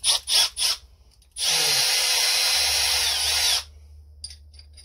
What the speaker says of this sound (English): Now, the drill.